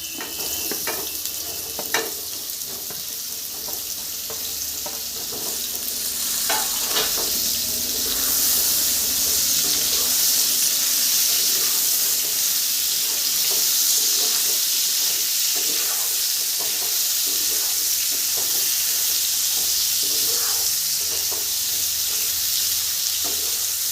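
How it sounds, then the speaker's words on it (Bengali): Bottle gourd pieces fry in a pan for a gourd-and-prawn dish after potatoes, with a broad, hissing sizzle that swells and holds steady, scattered stirring scrapes and light clinks mostly early on. "এই পর্যায়ে লাউগুলো দিয়ে দিব। লাউগুলো একটু ভেজে নিব।"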